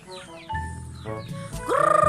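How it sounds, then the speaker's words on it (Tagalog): Native hens in a backyard flock, clucking and calling close by, a run of short, rising, throaty notes that builds into a louder rapid cackle at the end, with no talk. "Ito na yung isang inahin."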